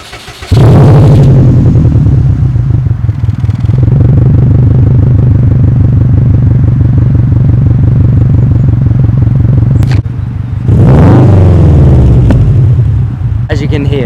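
A car engine revs hard from a start, holds a loud, throbbing burble, then revs again with a sharp rise and release, the hiss of a dump valve venting between bursts, very close and loud.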